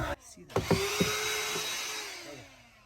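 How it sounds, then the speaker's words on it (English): A power drill drives screws to fasten a pontoon boat live well to the floor, with a few short whirring bursts and clicks followed by a longer sustained run, fairly close and moderately quiet. "get the live well screwed down to the floor"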